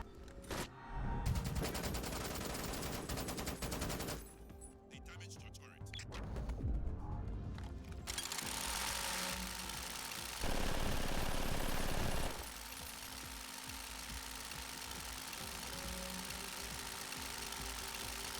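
A Gatling gun firing in a video game, loud rapid mechanical bursts that run in long rattling stretches with short breaks, dense and continuous for most of the span.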